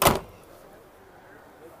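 A vehicle door with a trailer hitch shuts with one solid thud right at the start, followed by quiet outdoor ambience at a swap meet in Puyallup, Washington.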